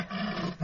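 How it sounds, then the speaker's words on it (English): A tiger gives a short, low, rumbling snarl in a hunting tale read aloud as an audiobook, steady and close, swelling louder at the very end. "The tiger bared his teeth and snarled."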